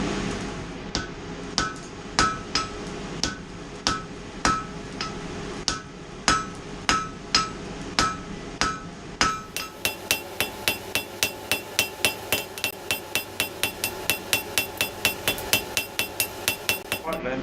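A hammer strikes a metal taper on an anvil, forging it from square to octagonal: evenly spaced ringing blows at first, then a faster, steady run of sharp metallic clanks, close and loud.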